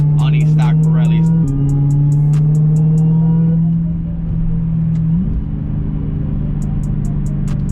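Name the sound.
Dodge Hellcat widebody spinning tires on stock Pirellis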